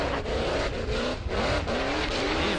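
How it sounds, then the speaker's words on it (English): A high-horsepower tube rock bouncer buggy roars at full throttle during an off-road hill shootout, its engine revving hard and continuously with loud, rising and falling pitch sweeps, close and unbroken throughout. "He's really throwing down the throttle"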